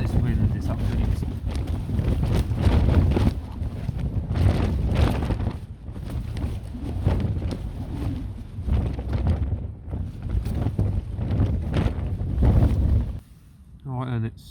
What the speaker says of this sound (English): So this wind is absolutely awesome.